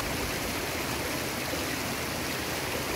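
A waterfall pours over dark rocks in a steady, dense roar of rushing water, loud and close with no break throughout.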